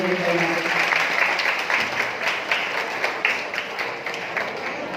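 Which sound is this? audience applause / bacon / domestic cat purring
audience applause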